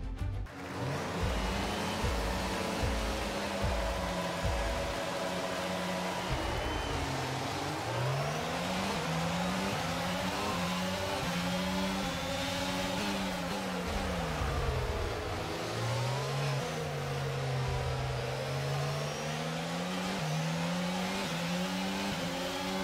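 Race cars in the F1 22 video game roar off the start at the Canadian circuit, engines revving and rising and falling in pitch as they shift gears and jostle, loud and continuous throughout with no talking.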